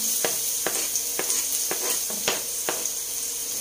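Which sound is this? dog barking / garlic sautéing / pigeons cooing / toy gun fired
garlic sautéing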